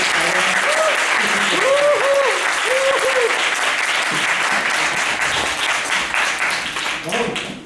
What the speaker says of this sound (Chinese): 那我们请跟他掌声